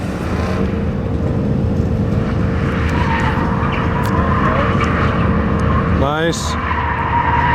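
A drift car slides around a track at a drift competition, its engine roaring steadily at close range with tire noise, a short rising squeal near the end and a brief spoken remark.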